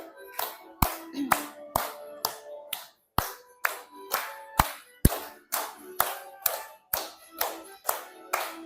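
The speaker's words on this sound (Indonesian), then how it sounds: "Sambil tepuk tangan boleh" In a classroom, people clap their hands in a steady beat of sharp, evenly spaced claps, roughly two per second, while tonal singing voices carry on between the claps.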